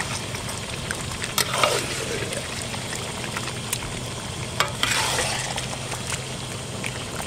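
Village-style magur fish curry cooking in oil in a pan, a steady broad sizzle and bubbling with a couple of brief clatters from stirring, no voices.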